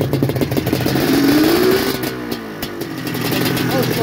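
A Vincent motorcycle, an old race bike back on the road, revs loudly and steadily nearby, its engine pitch climbing and then settling, with voices heard faintly beneath it.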